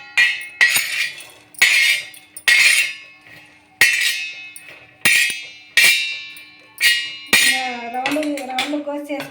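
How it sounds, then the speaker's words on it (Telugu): A plate and cutlery clinking in a kitchen while bitter gourd curry and chapati are made, with a series of sharp, bright clinks and knocks spaced about a second apart, ending in a brief burst of ringing clatter. "ఇట్లయితే ప్లేట్ వేస్తా."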